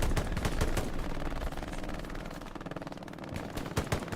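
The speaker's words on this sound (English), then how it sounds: "I'm hearing those MGs just spitting fire." Two machine guns in Hell Let Loose rattle in sustained, alternating bursts, dense overlapping gunfire continuing throughout at mid distance with sharper nearer shots at the start and end.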